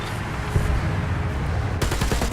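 Tank gunfire in the War Thunder video game, a loud dense continuous roar of firing with a sharper crackling burst near the end, no voices.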